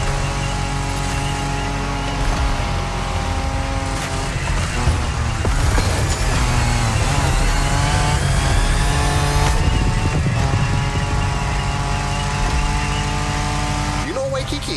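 Ford Bronco driving in The Crew Motorfest, its engine holding a steady loud drone with shifting revs throughout, heard alone at close range.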